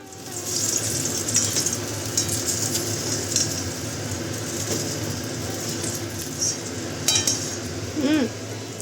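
Steady sizzling of fish frying in a pan, continuous throughout with occasional clinks of utensils and a brief voice near the end.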